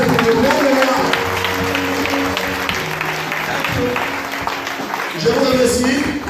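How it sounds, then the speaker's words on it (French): A church congregation claps together, a steady sustained round of applause from a crowd indoors, with voices and a speaker talking over it throughout. "Clap for Jesus"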